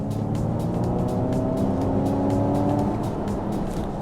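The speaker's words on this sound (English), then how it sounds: "here's the propulsion sound of the Mach-E" Inside the cabin of a 2023 Ford Mustang Mach-E GT electric car, the propulsion sound is a steady low hum layered with road and tyre noise, rising and settling slightly over a few seconds.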